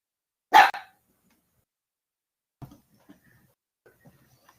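A puppy gives a single loud, close bark, followed by a few faint scuffles and small noises in an otherwise quiet room.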